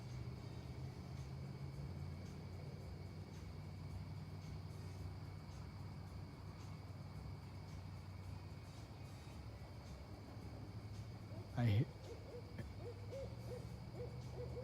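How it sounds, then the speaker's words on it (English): An owl hooting at night, a single brief deep call standing out against a constant low background hum, with faint distant tonal noise and no speech. "So there's an owl right there setting the signal."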